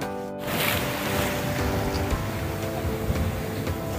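Sea waves washing onto the beach at Quy Nhon, a continuous broad roar of surf with wind buffeting the microphone, steady and close after a brief gap at the start.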